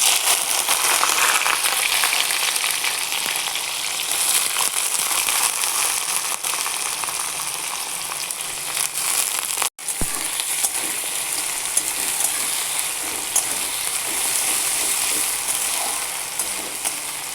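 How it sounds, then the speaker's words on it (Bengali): Onions sizzle in hot oil with a pinch of sugar while chicken curry is being made, a dense, steady, loud hiss that runs throughout. One brief break comes midway. "তেলটা গরম হয়ে গেছে, এবার আমি পেঁয়াজগুলো দিয়ে দিচ্ছি।"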